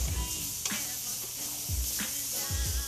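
Venison sears in a hot pan with a steady close sizzle and hiss, broken by a few brief stirring or scraping touches.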